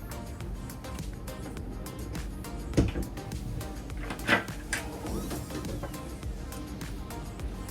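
Soft sliding and a couple of thumps as two large drawers under a bed are pulled out and pushed shut, fairly quiet against a low background.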